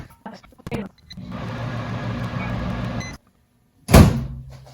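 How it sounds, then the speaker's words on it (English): A microwave oven hums steadily for about two seconds and cuts off, then after a short silence comes a loud clunk, like its door opening. "I think I'm gonna have to put this in the microwave for a minute or a few seconds."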